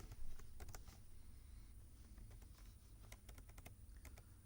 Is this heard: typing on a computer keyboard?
yes